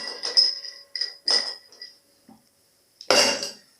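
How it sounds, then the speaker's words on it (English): Ice cubes being dropped into a cocktail shaker, giving several bright clinks and rattles in short bursts, then a pause before a final louder clatter, close up with no talk. "So, for this, we need ice in a shaker."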